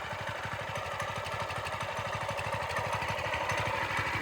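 A Trailmaster MB-200 mini bike's small engine runs steadily at idle, a close, even low putter with rapid regular pulses and no talk over it.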